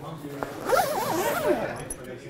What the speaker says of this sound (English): Large number 10 size zips.